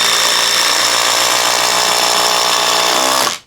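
A power drill drives a 5-inch lag screw with a loud, steady high-pitched motor whine rich in harmonics that holds for about three seconds, then stops abruptly.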